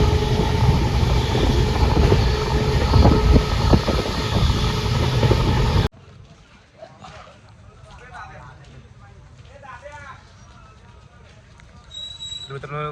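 A passenger train runs along the tracks with a loud, close rumble and clatter for several seconds, then the noise drops to a quieter interior hum with voices talking.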